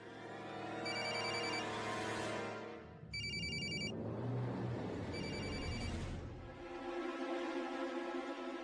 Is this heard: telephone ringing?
yes